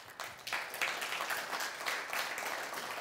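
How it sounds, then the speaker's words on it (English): Applause from an audience at a DXN business presentation, steady continuous clapping at moderate volume throughout the short stretch with no speech over it. "a round of applause to Mr. Theo"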